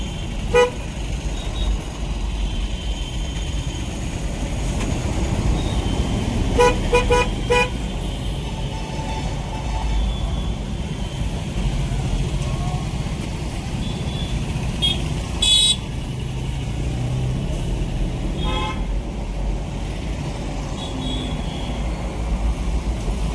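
Heavy road traffic on a busy street: a dense, steady roar of engines with several short car-horn toots scattered through it, loud and close, with no talking.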